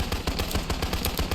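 Rapid AK-47 gunfire in a shooter video game, a fast even string of about a dozen sharp shots in one short close burst.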